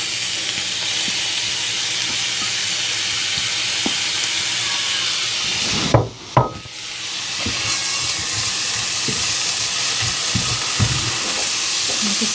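Passata poured into a hot pan on an induction hob gives a loud, continuous steamy sizzle and hiss, broken briefly by a sharp surge and dip in the middle before the steady frying returns.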